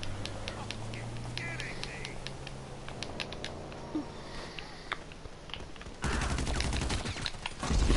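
A PS4 video game with a dense crackle of gunfire and scattered shots over a steady background, growing louder and busier toward the end, with some talking.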